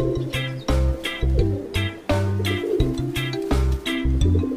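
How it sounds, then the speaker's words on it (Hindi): A pigeon coos in repeated rhythmic phrases, mixed with a bright musical backing in a children's Hindi alphabet song. "कबूतर"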